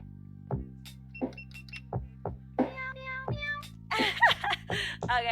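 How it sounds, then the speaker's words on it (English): A cat piano plays a string of synthetic meow tones, single notes spaced out and then a quicker cluster near the end, clear and close with no talk. "I'm gonna use the cat piano since we're on cat stream."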